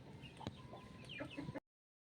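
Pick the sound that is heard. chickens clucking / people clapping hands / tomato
chickens clucking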